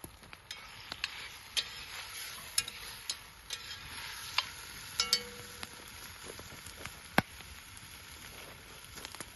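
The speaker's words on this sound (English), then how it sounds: "toss all this nice stew meat in, saute it for a little bit" Bison stew meat sautés in a hot pan over an outdoor wilderness cooking fire, a steady close crackling sizzle dotted with sharp pops and spits throughout, no voices.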